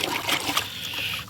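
Water trickles and splashes lightly while animal toys are washed, a close, continuous dribble with small splatters throughout the short moment.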